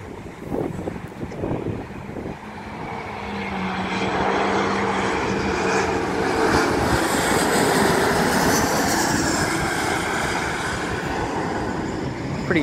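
Broadband jet roar from an American Airlines A321 parked near the cargo area of an airport, a steady loud rumble with whine that swells after a few seconds and holds, with no voices.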